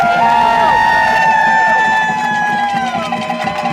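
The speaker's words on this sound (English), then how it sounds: "let's get a big round of applause for Portland City Council member Tiffany Koyama Lane" Rally crowd in Portland cheers loudly and continuously for a city council member, with a dense wash of voices and whistles.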